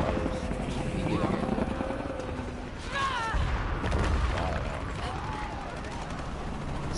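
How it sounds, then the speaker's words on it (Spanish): Helicopters fly over combat in the Shadow of the Tomb Raider video game: a steady rotor drone fills the scene, with a heavier boom and scattered gunfire partway through. "Más helicópteros."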